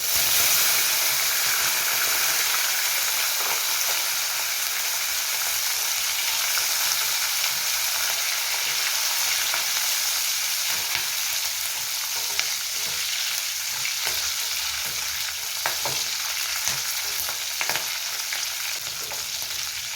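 Green chillies fry in a pan for chutney with a steady, close sizzle and hiss that runs unbroken the whole time, broken only by light stirring scrapes.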